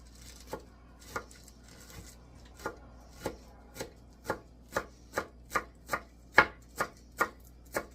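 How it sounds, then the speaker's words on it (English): Fresh spinach being chopped with a knife on a cutting board: about a dozen crisp, close knife strikes in an uneven rhythm that quickens toward the end, with no talking. "we are going to chop it up and add some to our cheese"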